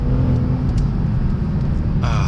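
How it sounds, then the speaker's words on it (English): A Lexus RC F engine hums and rumbles steadily up close, with a rising rev near the end. "I just love the sound of this engine when it goes."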